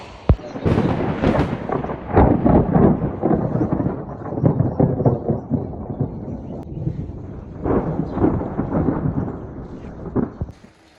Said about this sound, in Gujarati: ફાઇનલી વરસાદ ચાલુ થઈ ગયો હવાના તડાકા ને ભડાકા સાથે